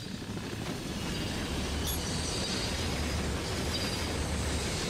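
A rail wagon in the Ratchet & Clank video game gives a continuous heavy rumble and clatter, steady and loud, with a brief metallic screech partway through and no speech.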